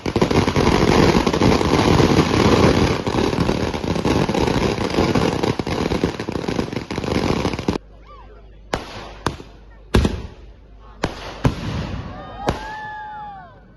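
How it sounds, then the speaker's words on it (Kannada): A special fireworks display at an annual temple festival: a continuous dense barrage of crackling bursts for about eight seconds, then separate loud bangs spaced apart, with whistling rockets rising near the end. "ವಿಶೇಷ ಸಿಡಿಮದ್ದು ಪ್ರದರ್ಶನ ನಡೆಯಿತು."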